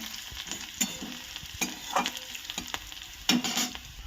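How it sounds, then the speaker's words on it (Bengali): Onions sizzle steadily in a hot pan while a utensil scrapes and stirs in irregular strokes, with a few louder clatters against the metal. "দেখুন পেঁয়াজটা আমার ভাজা হয়ে গেছে।"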